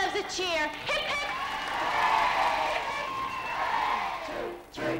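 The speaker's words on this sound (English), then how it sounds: "Give yourselves a cheer." A pantomime audience of children and adults at a 'Jack and the Beanstalk' show cheers and shouts in a loud, sustained burst, rising and then tailing off, with voices calling out over the crowd.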